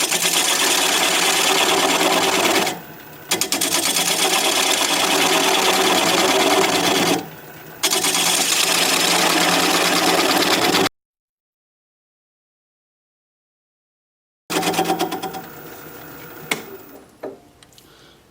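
A wood lathe spins a black cherry live edge bowl at about 550 RPM, giving a steady whirring drone with two short dips. It then stops dead for several seconds and starts up again.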